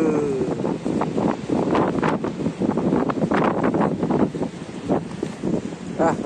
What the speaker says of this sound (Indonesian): Anginnya gede pisan.